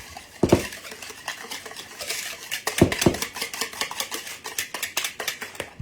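Light brown sugar being mixed into donut batter in a bowl: close, continuous scraping and stirring with irregular clinks of utensil against bowl, a few louder knocks, and a steady rhythmic swish toward the end.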